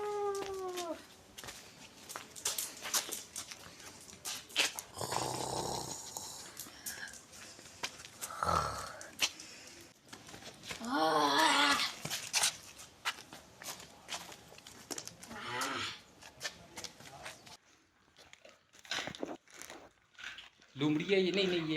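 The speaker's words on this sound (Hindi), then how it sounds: "ये वो मेरे ख्याल से जंगली कुत्ते हैं" Wild dogs in an enclosure at a wildlife park in Murree give intermittent whines, yelps and snuffles amid footsteps and shuffling, with people talking nearby throughout.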